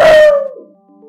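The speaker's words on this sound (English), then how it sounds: "It's probably better she barks through this." A pug gives a loud single bark that stretches into a falling howl, then trails off into a faint whine.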